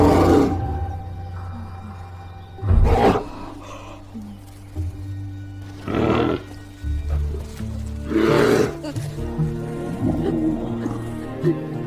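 A bear in a film series roars in several loud, rough bursts separated by quieter gaps, with low rumbling tones underneath between the calls.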